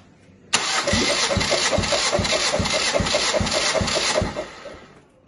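A 2-litre Ford Focus II engine (AODA) cranks on the starter during a cold compression test, a steady rhythmic churning of about nine even pulses, close and loud, then stops abruptly.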